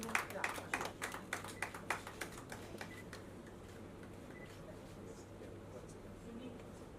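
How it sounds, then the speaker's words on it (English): Scattered clapping at a star-studded awards and magazine cover unveiling event, a handful of distinct claps in the first three seconds that thin out, followed by steady room murmur and background hum. "A big round of applause for him, please"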